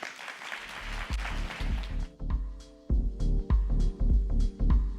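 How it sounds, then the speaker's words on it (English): Crowd applause at a product launch event fills the space, then gives way to rhythmic clapping and a steady musical beat in the background. "Round of applause."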